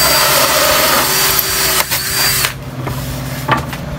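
Power drill running a 1.5 inch hole saw, a loud steady whir for about two and a half seconds, then it drops to a quieter rough grinding with brief bursts.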